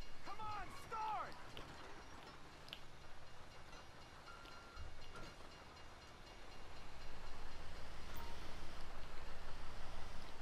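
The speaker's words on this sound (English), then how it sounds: "Oh, there's a train coming." A train rolls past in GTA V, a rumbling rail clatter that grows louder and fuller toward the end, with players talking over it.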